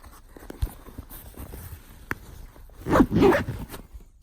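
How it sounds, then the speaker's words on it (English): An Incase City backpack zipper is pulled shut in a quick burst of rasping zip strokes, close and fairly loud, preceded by a few faint clicks and handling bumps with no talking. "And next, I'm gonna zip this up real quick."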